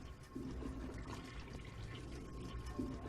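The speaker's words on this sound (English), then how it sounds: "You can't flush urinals, I guess, but you can flush toilets." A quiet, steady rush of a toilet flushing in the Evil Dead: Regeneration video game, a continuous watery swirl with no voices.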